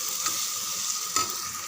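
A spoon stirs spiced masala with chili powder in a frying pan for chicken biryani, a soft steady sizzle broken by two brief scraping strokes, with no talking.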